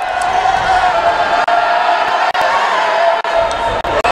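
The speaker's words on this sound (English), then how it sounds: "I think the crowd might be in his head a little bit. It's getting loud in here." Loud, dense crowd roar filling a college basketball gym as a player stands at the free throw line, sustained cheering and yelling with a few sharp dips, no distinct voices standing out.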